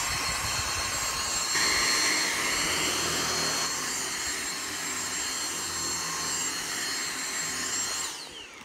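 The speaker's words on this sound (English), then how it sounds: "I'm going to press it and the vacuum activates." A Dyson DC59 cordless stick vacuum runs with a steady high-pitched whine and airy roar, holding level before winding down at the end.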